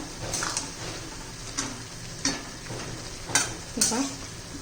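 Cauliflower curry frying in a pan is stirred with a spoon, giving a steady sizzle broken by several scraping strokes against the pan, close and moderately loud.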